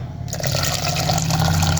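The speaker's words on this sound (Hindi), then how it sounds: "अब हम इसके अंदर पानी शामिल कर रहे हैं।" Water pours steadily into a strawberry yogurt shake mix of blended strawberries, sugar and yogurt, a close continuous splashing fill that starts abruptly and runs on without pause.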